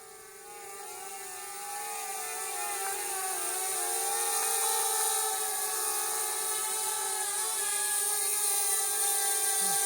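An Elanview Cicada+ drone flies and repositions on return-to-home, its propeller whine a steady tonal buzz with wavering pitch that swells gradually louder as it comes nearer.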